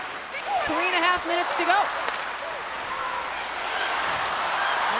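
An arena crowd at a PWHL women's professional hockey game, New York at Minnesota, keeps up a steady, broad roar in the background while a commentator speaks over it.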